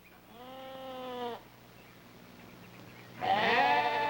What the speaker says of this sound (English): One sheep.